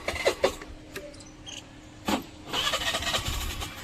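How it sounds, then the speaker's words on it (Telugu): Suzuki Access 125 scooter that has run out of petrol, failing to start: a few short cranking bursts from the starter that never catch, with outdoor insect chirps in the background. "చూడండి ఆన్ అవుతలే బండి,"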